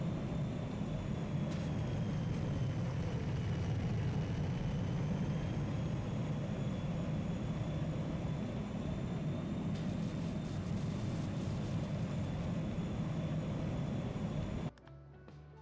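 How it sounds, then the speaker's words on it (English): Airplane in a video game, a steady loud engine roar with a rumbling low end, sustained and close for the whole stretch before dropping away abruptly near the end, with no talking. "Where did that plane come from?"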